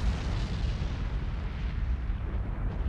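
A sustained, heavy rumbling explosion from a naval video game as a Russian ship is sunk, loud and continuous without distinct separate blasts.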